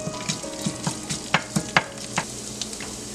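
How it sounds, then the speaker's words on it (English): Finely chopped ginger sautéing in hot oil for a paneer kati roll, a bright close sizzle punctuated by rhythmic spatula taps and scrapes on the pan, no speech. "Saute it little bit."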